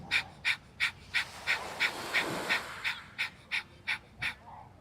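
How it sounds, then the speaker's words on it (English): Breath of fire yoga breathwork on Catalina Island: a steady train of about fourteen sharp rhythmic breaths pumped through the nose, evenly spaced and close, with a brief looser breathy stretch midway, no talking. "Something we use often is called breath of fire,"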